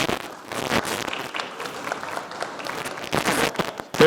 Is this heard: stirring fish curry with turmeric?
no